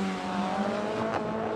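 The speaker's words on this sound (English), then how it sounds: "Dave Mitchell throws it in big angle, which pulls him way offline now" A drift car in Pro-Am qualifying at round one of the 2018 British Drift Championship slides at a big angle, its engine droning steadily with a rising tire squeal near the end.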